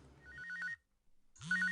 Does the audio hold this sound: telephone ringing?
yes